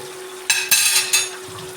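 Lemon pickle with vinegar, asafoetida and salt is stirred in a pan, giving a few quick, close scraping strokes over a faint sizzle.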